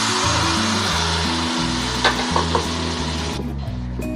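Tamarind juice hits a hot tempering of crushed garlic and spices in a pan for pulihora, giving a loud, steady, close sizzle that fades slightly near the end, with a few faint clinks.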